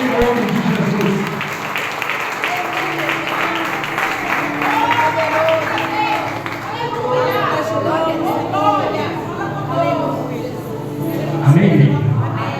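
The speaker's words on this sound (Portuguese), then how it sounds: "vamos receber o servo do Senhor nas palmas" Church congregation at an evangelical anniversary service claps to welcome a minister, a broad wash of clapping mixed with crowd chatter and voices speaking over it, continuing steadily throughout.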